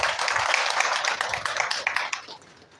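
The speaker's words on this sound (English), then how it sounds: "Applause for him, please." An audience at an academic lecture on computed tomography claps steadily for a few seconds, then the applause fades out.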